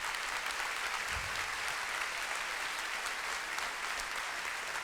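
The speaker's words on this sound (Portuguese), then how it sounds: "Acho que você pode aplaudir melhor." A church congregation gives a continuous, fairly loud wash of clapping that carries evenly from start to finish with no speech on top.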